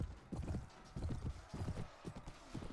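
Horse hooves clip-clop in the medieval game Mount & Blade Warband Viking Conquest, a steady repeated trot of soft thuds at moderate distance, continuing throughout with no talk.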